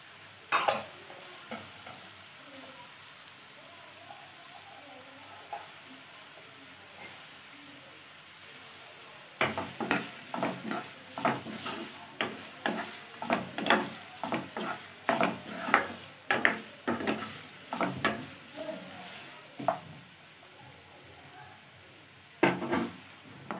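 Diced potatoes fry in oil in a pan for a bottle gourd and soybean curry, a soft sizzle running under a quiet opening, then a long burst of rapid, rhythmic spatula scrapes and knocks from close by.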